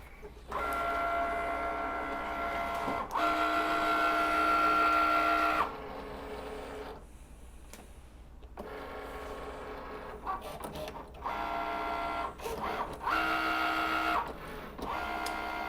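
A Cricut machine cuts a paper card layer, its motor whirring steadily in long passes with a faint whine, stopping briefly between movements before resuming, near and alone.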